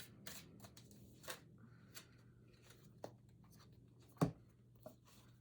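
Hands handle an Osho Zen tarot deck, quietly, with soft card shuffling and slapping, scattered taps and one louder snap, close up and without talk.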